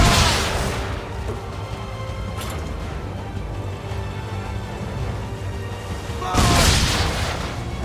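Naval cannons boom across the water in Assassin's Creed III, heavy blasts at the start and again near the end, with a rumbling battle din and shouted voices in between.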